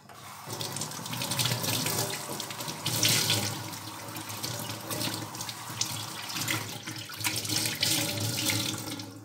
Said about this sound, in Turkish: Elimi bir yıkayayım, bezimi de yıkayayım.